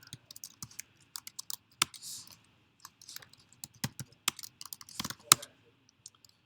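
Fast typing on a computer keyboard with irregular bursts of sharp clicks and key taps, close and fairly clear over quiet background, no talk.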